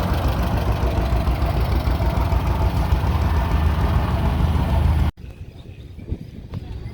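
A low, throbbing old two-cylinder tractor engine, a 730, idles steadily and close by with a lumpy pulsing beat, then cuts off abruptly, leaving quieter background noise, at a threshing show.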